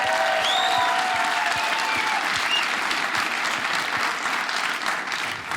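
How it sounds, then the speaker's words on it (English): A comedy club audience applauds loudly and steadily for a military member in the crowd, dense continuous clapping with a few cheers and whoops rising over it, slowly tapering toward the end. "Y'all clap for that guy."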